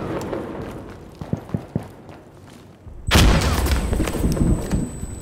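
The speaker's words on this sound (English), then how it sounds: "I'm throwing a frag! I'm throwing a grenade!" A frag grenade explosion in the Insurgency Sandstorm shooter game, after a few scattered gunshots: one sudden loud blast erupts, followed by a long roaring, ringing aftermath with debris and continued noise.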